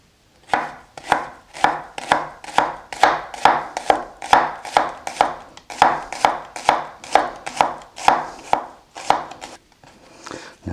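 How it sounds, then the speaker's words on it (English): A knife chops a shallot on a cutting board in a steady run of about twenty crisp, evenly spaced strikes, close and clear with no talking, slowing to a few lighter taps at the end. "I think I'm going to get this shallot cut up"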